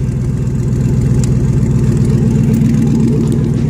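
A Chevrolet S10 pickup engine idles steadily up close, a low, even rumble with a smooth rhythmic purr that holds constant throughout, with no voices.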